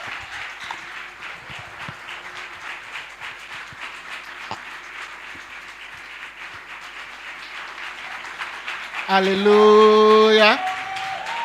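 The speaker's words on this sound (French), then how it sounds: "Si vos applaudissements s'il vous plaît" A church congregation claps and cheers in a steady wash of applause for a preacher. A voice calls out over it, and a loud sustained musical chord swells in near the end.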